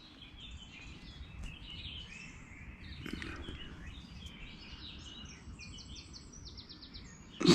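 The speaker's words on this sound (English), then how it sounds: "The birds are singing." Birds sing and chirp at sunrise around a campsite, a busy chorus of small calls held low beneath a steady outdoor hush, with no one speaking.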